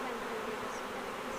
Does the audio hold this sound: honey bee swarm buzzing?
yes